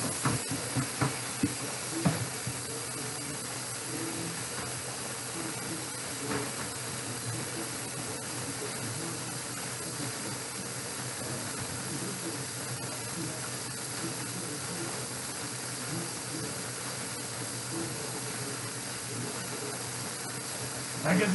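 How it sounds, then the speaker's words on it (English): Shrimp and codfish dropped into a hot pan for a seafood rice dinner, giving a steady continuous sizzle and hiss with faint rattling that runs evenly for about twenty seconds, close and moderately loud, with occasional speech beneath. "drop that shrimp and the codfish right into there"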